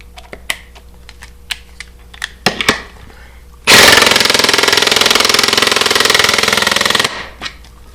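A Ridgid 18V brushless 1/4-inch pulse driver sinks a screw without a pilot hole, giving a loud, steady buzzing rattle of about three seconds. Before it, scattered faint clicks and handling knocks are heard.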